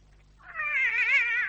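A cat lets out a single drawn-out, wavering caterwaul that swells from quiet to loud and holds, close and clear against a silent room.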